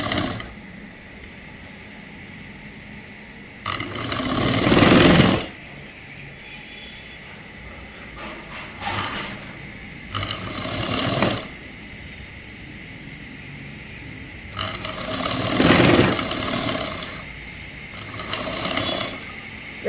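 A sewing machine stitching a boys' government school uniform shirt runs in several bursts of mechanical whirring, separated by quieter pauses, close and fairly loud with no talk.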